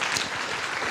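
A seated audience at a panel event on generative AI gives a short, even round of applause, close and moderately loud, with no one speaking.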